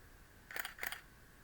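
A camera shutter fires quickly, giving two rapid mechanical clicks in quick succession, crisp and close against an otherwise quiet room.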